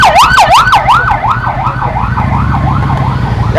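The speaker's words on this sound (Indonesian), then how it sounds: "Nah, ada ambulan kita mundur." An ambulance siren wails in a steady rising-and-falling cycle, loud and close at first and then easing slightly as it passes, over a continuous low engine rumble from a motorbike ride.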